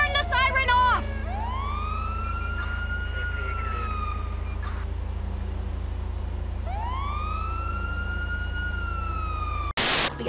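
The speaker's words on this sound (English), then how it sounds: "Turn the siren off!" A police car siren in Grand Theft Auto V wails in rising and falling sweeps over a constant low engine drone, pausing briefly before starting up again and then cutting off sharply at the end.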